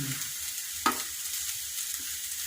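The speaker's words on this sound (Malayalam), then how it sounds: "എന്നിട്ട് നല്ലോണം ഒന്ന് ഇളക്കി കൊടുക്കണം." Masala idli upma made from leftover idli sizzles quietly in a pan, with one sharp clack of a spoon stirring over the low, steady frying hiss.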